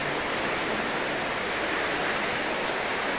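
Water rushes steadily through the concrete and corrugated steel Bertsch Creek culvert in Walnutport, PA, a loud, constant broadband roar with no pauses.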